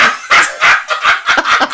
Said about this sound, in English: you just hear these dogs like uproariously laughing